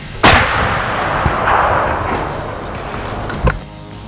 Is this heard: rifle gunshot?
yes